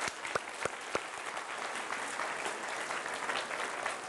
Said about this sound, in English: Big round of applause for Anthony.